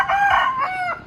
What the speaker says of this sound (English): Noisy roosters.